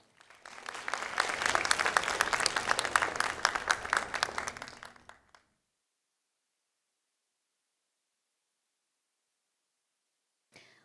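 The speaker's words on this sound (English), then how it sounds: "Can we give her another round of applause?" An audience applauds after a classical Indian dance solo at an arangetram recital, a dense burst of clapping that swells, holds for about five seconds, then cuts off into silence.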